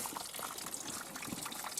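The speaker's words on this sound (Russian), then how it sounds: "Ручей такой здесь." A small roadside stream runs after rain beside a broken dirt road, its faint, steady trickle and gush of water continuous and fairly quiet throughout, with no voices.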